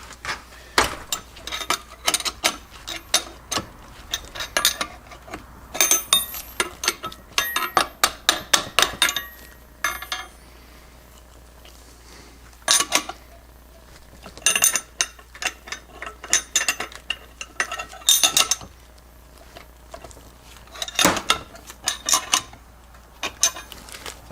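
A compressor tool works on a C6 transmission clutch snap ring in a 1980 F-350 service truck rebuild: bursts of close metallic ratcheting, clicking and clanking come in uneven clusters separated by short pauses, with no talk.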